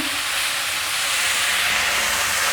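Cabbage and seaweed stir-frying in a hot pan make a steady, loud sizzle and hiss that holds evenly throughout, with no voices.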